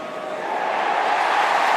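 Stadium crowd roaring for an Australian rules football goal kicked by Taylor Walker, a broad, swelling wall of cheering that builds steadily louder over a couple of seconds.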